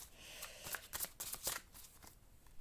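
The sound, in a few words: shuffling a tarot card deck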